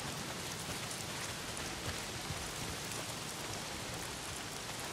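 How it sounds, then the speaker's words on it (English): Heavy rain pours down steadily in the video game Days Gone, a dense, unbroken hiss across the whole stretch with no voices. "Not if it's pissing down rain."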